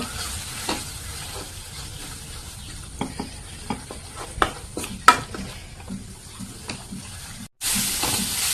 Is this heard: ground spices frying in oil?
yes